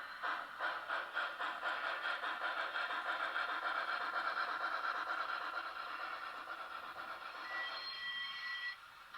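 N scale BLI T1 Reading steam locomotive model playing sound effects: a quick run of rhythmic chuffs under hissing steam, then a thin whistle-like tone near the end, fairly quiet and without speech.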